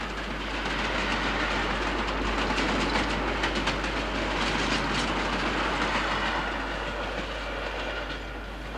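Passenger train on the standard gauge line between Melbourne and Sydney, running steadily past with a dense rolling rumble and faint rhythmic clatter of wheels, loud and continuous throughout with no voices.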